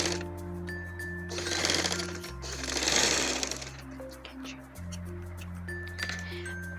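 A sewing machine stitches a fabric piping strip in quick whirring bursts, with a steady hum between runs and light clinks of handling.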